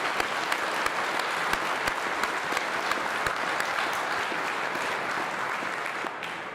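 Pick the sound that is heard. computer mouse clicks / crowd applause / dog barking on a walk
crowd applause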